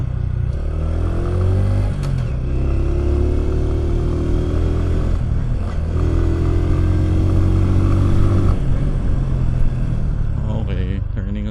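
A Bristol Cub Pro motorcycle engine drones steadily while riding over road humps, rising and falling in pitch with the throttle, under a rider's talk.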